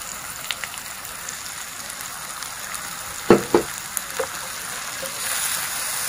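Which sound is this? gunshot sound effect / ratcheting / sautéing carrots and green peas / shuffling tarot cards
sautéing carrots and green peas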